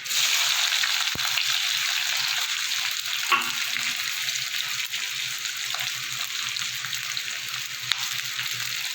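Chopped onions fry in hot oil after the spices are tempered, making a loud, dense, steady sizzle with a few faint stirring clicks.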